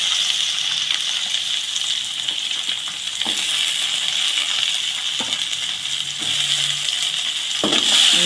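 Chopped onions frying in hot oil for a spicy chutney, a steady close sizzle running throughout with a few faint clinks and stirring scrapes, and no voices.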